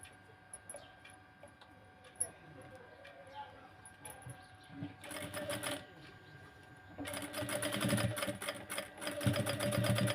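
A sewing machine stitches the hip joint of a Punjabi dress, quiet and sparse at first, then running in a short burst and finally a steady, louder continuous whir toward the end, with someone talking faintly.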